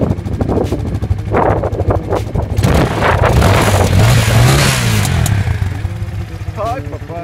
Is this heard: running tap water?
no